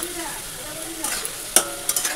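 Food sizzles quietly in hot oil, with a couple of sharper crackles and brief stirring scrapes near the end, no voices.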